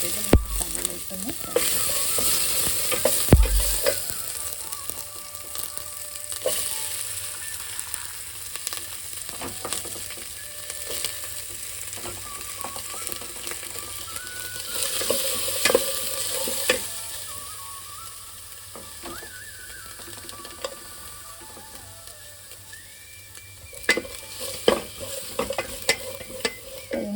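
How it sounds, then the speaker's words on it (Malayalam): Onions with whole spices sautéing in ghee in a pan, a steady sizzle broken by repeated spoon scrapes and stirring clinks against the pan, close up. "അപ്പം നെയ്യിൽ നമ്മൾ സവാള വഴന്നുകൊണ്ടിരിക്കുകയാണ്"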